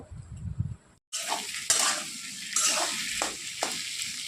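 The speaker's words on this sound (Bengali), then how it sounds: "আর এদিকে দেখো পেঁপে আর আলুটাকে ভালো করে কষিয়ে নিচ্ছি" Papaya and potato sautéing in a pan for a vegetarian meal: a brief soft rustle, a gap, then a loud close sizzle with stirring scrapes and utensil knocks, no talking.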